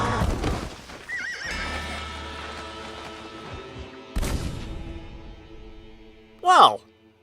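In the Red Dead Redemption western game, a horse's hooves pound under rumbling music and effects, then a loud, shrill whinny rings out near the end.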